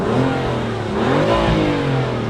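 BMW M4 engine, tuned with a particulate filter, rumbling steadily from inside the cabin with a brief rise in revs midway, loud and continuous with no talking.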